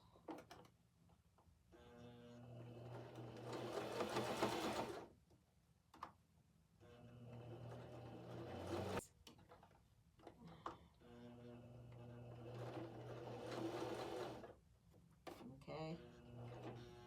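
A sewing machine stitches in three sustained runs of rapid mechanical chatter with a whirring motor, separated by short pauses and small clicks, heard close and fairly quiet.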